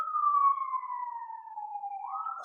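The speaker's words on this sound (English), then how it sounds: "fucking sirens" Emergency vehicle siren outside, a single long descending wail that rises again near the end, moderately loud and heard alone.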